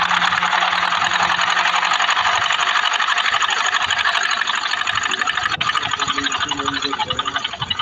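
A sewing machine stitches a reinforcing tack around the rounded edge of a back pocket with a rapid, steady mechanical chatter, loud and close, that continues throughout.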